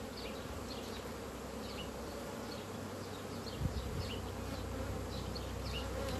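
A steady, dense hum of many honeybees buzzing close by at the hive, continuous and even, with faint higher buzzes darting past throughout.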